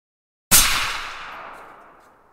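A single rifle shot fired from a bipod with a rear bag sets off a sharp, loud report followed by a long decaying echo, alone.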